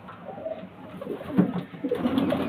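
Pigeons for sale at a breeder's coo in low, soft, rolling calls. The calls come close and moderately loud, swelling twice over a steady murmur of background noise with no talk.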